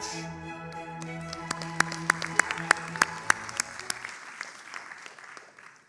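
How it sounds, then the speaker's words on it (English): An audience at the HTMi winter graduation ceremony applauds in a steady wash of clapping, with a few sharper claps standing out, over a sustained musical tone that fades away partway through. "let's give our postgraduate students, MBA and PgD students, a great round of applause"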